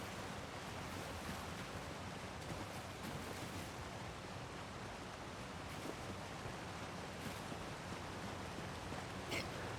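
Constant rushing water from a waterfall in a video game, a broad even hiss and roar like surf that stays steady throughout, moderately quiet with no talking.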